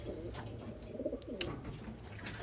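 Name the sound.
pigeons cooing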